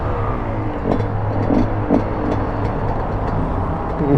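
A street-legal two-stroke motorbike rides along with a steady, loud engine drone and rumble. Low tonal hum runs throughout, with no voices.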